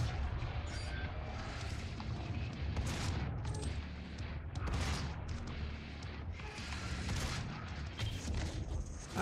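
Gunfire from the video game Doom, a dense continuous fusillade of rapid shots and mechanical clatter under a busy low rumble, loud and sustained throughout with no clear pauses.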